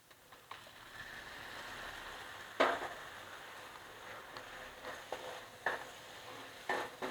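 Boiled, blended tomato puree poured into a hot pan, a low steady sizzle with a few louder splashy bursts and stirring sounds, close and fairly quiet.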